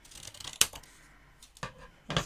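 Scissors roughly cut paper for a craft candy cane pouch, making a few sharp, separate snips with short quiet gaps between them, close and crisp.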